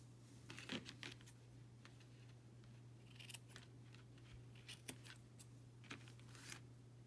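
Scissors snipping through a plastic container for a Dollar Tree DIY craft, a few faint, sparse crisp cuts with pauses between them over a quiet steady hum.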